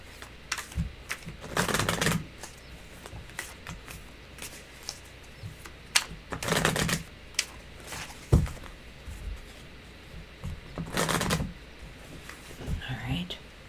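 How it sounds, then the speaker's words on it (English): Lenormand fortune-telling cards shuffled by hand at close range in three bursts of riffling and rustling, with soft taps and handling noises between them. "Get my Lenormand shuffled."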